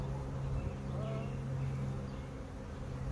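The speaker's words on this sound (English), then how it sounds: "look at all these bees flying in and out." Bees fly in and out of a hive outdoors, making a steady, soft, continuous buzzing hum with no clear breaks.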